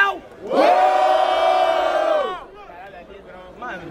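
A live audience at a Brazilian rap battle in the Batalha do Coliseu bursts into one sustained, loud collective shout for about two seconds, then falls away to murmurs and a few scattered voices.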